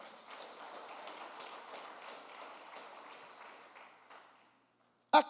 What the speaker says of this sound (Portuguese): Dê as palmas para o Senhor.